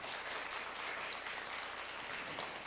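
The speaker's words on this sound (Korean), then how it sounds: "열띤 토론 경기를 보여준 두 팀에게 박수 한번 보내주십시오" Applause from the audience at a Korean middle-school AI digital-native debate final, honoring the two competing teams: a steady, dense wash of hand clapping that holds evenly throughout, slightly distant, with no talk over it.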